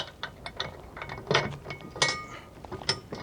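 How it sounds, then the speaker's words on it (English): The internal leg of a fifth wheel trailer's auto level system drops into position with a run of faint metallic clanks, clicks and ratcheting, heard close and quiet with no talking. "The internal leg will drop down."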